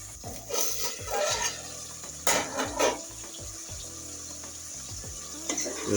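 Chicken pieces for a spicy chicken curry cook in a pan as they release their water, giving a steady wet sizzle and bubbling with a few sharper clinks of stirring, close and continuous.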